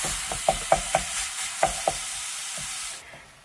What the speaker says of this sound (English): And just break that apart and cook.